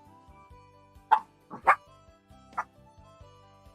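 A voice imitating a dog, giving a few short, separate barking yelps over a quiet background with a low hum.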